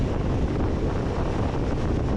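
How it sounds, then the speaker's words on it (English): Steady wind buffeting a microphone on a moving Suzuki Burgman, a continuous low rumbling roar with no breaks, loud and close throughout. "More windy than I thought it'd be today."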